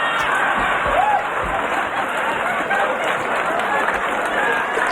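Audience at a stand-up comedy show breaking into sustained applause, a dense steady wash of clapping with a few scattered whoops and cheers throughout.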